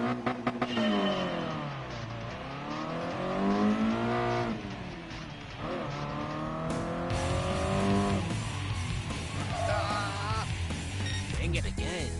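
Race car in Gran Turismo Sport, its engine revving up and down in repeated sweeping surges with tire squeal mixed in. The sound stays loud and continuous throughout, with a voice talking faintly over it.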